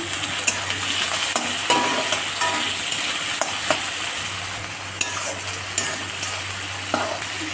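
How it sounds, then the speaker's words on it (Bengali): Prawns sizzle and fry in a pan with lightly browned onions, a steady close crackle broken by sharp stirring clacks of a spatula against the pan throughout, with no voices. "পেঁয়াজটা হালকা ভাজা হয়ে এসে এবার দিয়ে দেবো চিংড়ি মাছ।"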